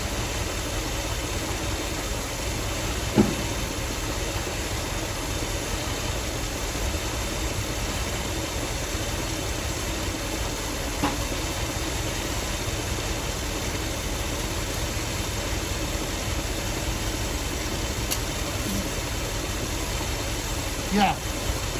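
A 1961 Cadillac Sedan DeVille engine idles steadily at a low, even rumble throughout, with faint brief clicks and no speech over it.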